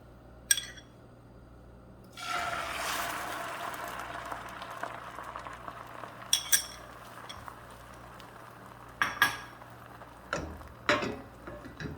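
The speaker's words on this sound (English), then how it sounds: "we gonna pour in our egg into this frying pan." A duck egg poured into a hot frying pan for an egg quesadilla starts a steady sizzle, with a few sharp clinks of utensils against the pan.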